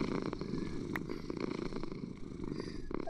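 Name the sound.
cat purring in Minecraft video game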